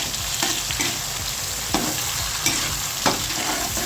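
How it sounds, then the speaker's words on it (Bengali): Shrimp fry with turmeric and salt in hot oil, a loud steady sizzle broken by scraping stirs of a spatula against the pan at irregular intervals. "দিয়ে আমি এটা ভালো করে নাড়াচাড়া করব।"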